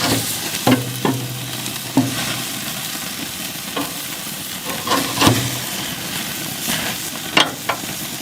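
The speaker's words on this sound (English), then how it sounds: "Let's see if we could flip these burgers again." Beef burgers sizzling steadily in a hot pan, a constant frying hiss broken by scattered clicks and scrapes of a spatula as they are flipped, close and alone.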